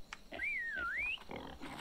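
A pig from the survival game Atlas lets out one squealing, gliding whine that rises, dips and climbs again, standing out clearly over quiet background.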